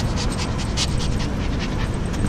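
A Maltese dog pants rapidly and steadily at close range, with quick breathy huffs filling the whole stretch and no talking over it.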